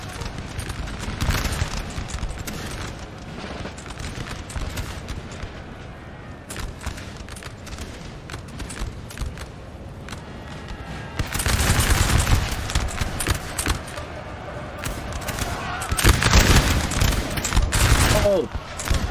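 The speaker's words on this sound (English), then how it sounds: "Those are some nice volleys." Massed musket volleys crackle in the Napoleonic strategy game Napoleon Total War during a 4v4 battle with an Austrian assault, sharp bursts of gunfire rising in dense clusters over a steady battle din, with a voice talking intermittently.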